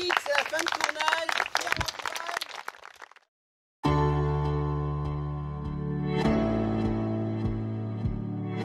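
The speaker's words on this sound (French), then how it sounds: "vous pourrez applaudir Yannick, c'est la fin de tournage" A film crew applauds at the end of a shoot, bursting into brisk, close clapping for about three seconds before it cuts off, followed by a sustained musical passage.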